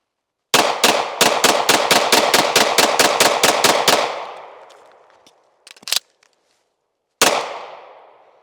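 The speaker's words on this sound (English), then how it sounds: "Holy crap, I hadn't shot that SIG P226 in a long time." A SIG P226 handgun fires a rapid string of about fourteen loud, sharp shots at close range, the echo trailing off before a short clatter and then one last shot.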